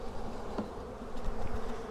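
A dense, steady hum of many honey bees buzzing close by as package bees are shaken from their box into a hive, a continuous swarm drone with no speech.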